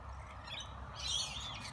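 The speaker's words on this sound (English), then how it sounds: "Lorikeets are fun to watch." Lorikeets chirping at a feeding bowl among other birds, a steady busy chatter of high calls that swells in the middle of the short stretch, heard close without any talking.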